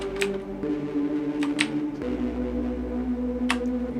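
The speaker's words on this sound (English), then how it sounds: "the sub's slower waveform interacting in an audible way with the tube distortion" A Minecraft soundtrack synth plays a low sub bass pushed through tube distortion, giving a gritty, buzzing drone. It steps to a different pitch halfway through, with a few faint clicks scattered over it.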